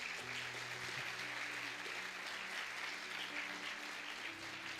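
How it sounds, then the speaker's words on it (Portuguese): A church congregation applauds in praise, a continuous steady round of clapping heard throughout at a moderate distance, with a low musical hum underneath. "Uma salva de palmas ao Senhor, por favor"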